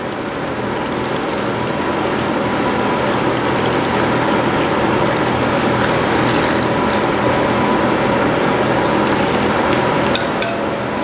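A vinegar brine mixture is poured over the top of a batch of pickles, making a steady, close splashing and gurgling stream that runs unbroken and alone.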